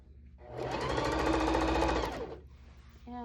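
A sewing machine hums through one continuous run of about a second and a half while stitching a folded pillowcase hem, close and steady, starting and slowing smoothly with faint room noise around it.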